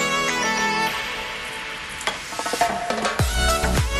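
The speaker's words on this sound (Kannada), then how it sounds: "ಉಪ್ಪು ಹಾಕಿ ಸರಿಯಾಗಿ ಮಿಕ್ಸ್ ಮಾಡ್ಕೊಳ್ಬೇಕು" Coarsely ground rice and lentil batter being stirred with salt for patrode, with soft scraping and wet clattering strokes that grow busier in the second half, over a steady tonal hum.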